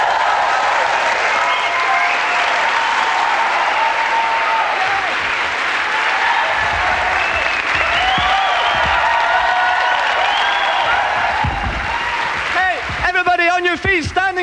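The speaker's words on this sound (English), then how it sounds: "Standing ovation, yes!" A theatre audience in Edinburgh gives comedian Phil Kay loud, sustained applause with cheers and whoops, dense clapping throughout, and someone shouting over it near the end.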